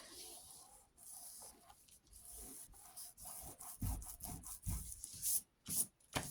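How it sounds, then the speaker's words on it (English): Quiet, close rubbing strokes come in an uneven rhythm as small bits of glue are rubbed off a craft project, with soft scratchy friction and brief gaps between strokes. "Just rub those bits of glue off"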